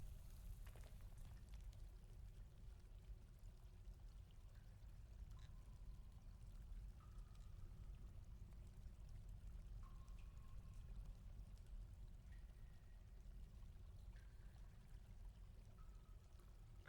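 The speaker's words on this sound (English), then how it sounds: "I'm hearing flowing water." Flowing water in the video game Dwarf Fortress: a quiet, steady pouring and trickling wash, constant and low, with faint scattered game tones above it.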